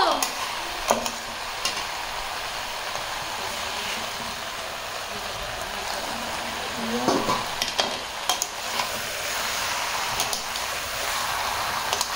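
Tomatoes stirred and fried in a pan, giving a steady close sizzle with occasional scraping stirs and clatter, continuous throughout, with faint voices in the background.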